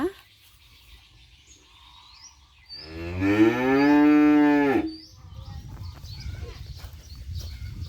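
A single long, loud moo from cattle at a cattle market where calves are chosen for fattening rises up close after quiet background noise, followed by a busier crowd murmur.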